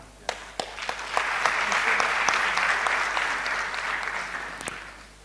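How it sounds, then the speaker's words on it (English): An audience at an induction ceremony for newly qualified medical and dental practitioners claps after a hospital coordinator is introduced, starting with a few sharp separate claps, swelling into steady even applause, then thinning near the end. "The applause is too feeble."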